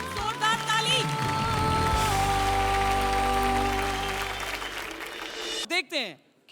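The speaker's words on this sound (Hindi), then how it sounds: "प्लीज सबके लिए बहुत जोरदार ताली।" Studio audience applause at a televised grand finale, broad clapping swelling under background music and a host's voice, then fading as talk returns.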